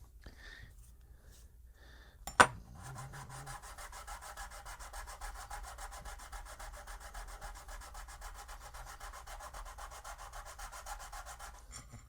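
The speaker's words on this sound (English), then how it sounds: "I'm just trying to get the peaks of the epoxy off" Epoxy peaks being rubbed off a carbon fiber build surface with a piece of laminated wood. A sharp knock comes first, then a faint, steady rhythmic scraping that carries on to the end.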